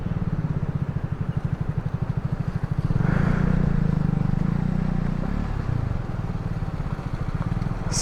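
A motorcycle ridden over a rough mountain road in Nepal, its engine thudding in a fast steady pulse close by, rising louder midway with rattling and scraping, no talk.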